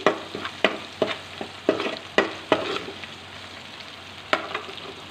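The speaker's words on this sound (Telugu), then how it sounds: "అల్లం తరుగు చిన్న ముక్క ఫస్ట్ వేసి వేయించుకుందాం." Small pieces of chopped ginger fry in a pan while a spoon stirs them, giving a steady low sizzle punctuated by about a dozen sharp scraping clacks at irregular intervals, close and fairly loud with no talking.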